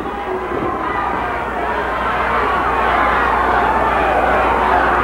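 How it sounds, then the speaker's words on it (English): An irate crowd at a 1988 pro wrestling match keeps up a steady, dense roar of shouting and jeering that swells slightly toward the end. "this crowd is irate. This crowd is really irate"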